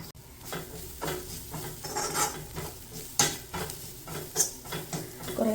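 Grated dry coconut is roasted in a pan for chicken curry, with a spoon scraping through it in repeated stirring strokes over a faint, steady sizzle, close and fairly quiet.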